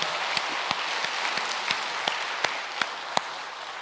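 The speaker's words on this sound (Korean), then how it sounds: "우리 하나님께 감사 박수합니다." A church congregation at a revival service applauds, with dense clapping that swells into a steady round punctuated by a few sharper, louder claps, heard close and without talk.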